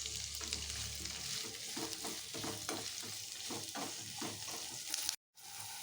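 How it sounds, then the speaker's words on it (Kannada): Onion and capsicum slices fry in hot oil, a steady close crackling sizzle with rhythmic scraping stirs, briefly cutting out near the end. "ಈಗ ಇದನ್ನು ಕಾದಿರೋ ಎಣ್ಣೆಗೆ ಹಾಕ್ಕೊತಾ ಇದ್ದೀವಿ. ಹಾಕ್ಕೊಂಡು ಫ್ರೈನ ಮಾಡ್ಕೊತಾ ಇದ್ದೀವಿ."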